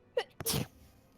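A single close sneeze with a quick sharp intake before it, followed by quiet.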